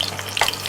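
Potatoes being stirred in hot oil sizzle and scrape briefly in a pan while cooking a chicken dish, a short close crackle with a light stirring clatter.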